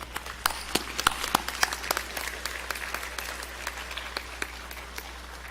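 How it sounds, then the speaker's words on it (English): Clapping erupts for an award recipient at an adult education graduation ceremony: scattered sharp claps from a modest audience in a hall, brisk at first and then thinning, with a low hum underneath. "So let's give him a round of applause"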